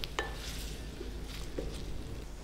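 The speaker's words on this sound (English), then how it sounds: "in goes our chorizo and we'll get that frying away." Diced chorizo fries in oil in a pan, a low steady sizzle with faint clinks and stirring of a utensil against the pan.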